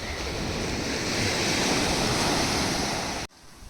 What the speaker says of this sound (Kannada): ಈ ಅಲೆಗಳ ಸದ್ದು ಎಂಥವರನ್ನು ಮೈ ಮರೆಯೋ ಹಾಗೆ ಮಾಡುತ್ತೆ.